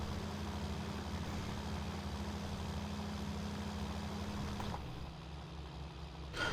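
A tractor engine heard from inside the cab in the video game Farming Simulator 19 drones in a low, steady rumble, then drops to a softer hum near the end, with no talking.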